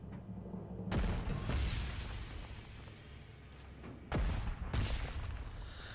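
Artillery fire in the wartime strategy game Panzer Corps 2, with two loud booming impacts about three seconds apart, each followed by a rumbling decay over a steady low background.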